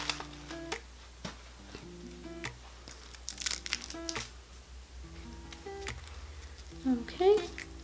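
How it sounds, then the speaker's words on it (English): Tissue paper is pulled out of a shoe box holding Tory Burch Miller sandals, giving several short crinkling rustles and crackles in separate bursts, close and moderately loud, with a few soft handling clicks between them. "So I'm just gonna take off the tissue paper."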